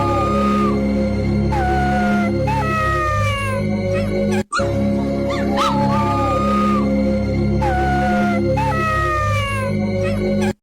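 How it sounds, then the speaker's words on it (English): Baby wolf cubs howling together, several thin, wavering high-pitched howls and yips rising and falling over a steady background hum, loud and close, the short sequence repeating after a brief cut. "Ever heard baby wolf cubs howling for the first time?"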